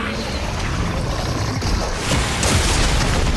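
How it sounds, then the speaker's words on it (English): Booming Fortnite swarm strike missile explosions roll in a dense, rumbling barrage, loud and continuous with heavier hits near the end. "Another player using the swarm strike."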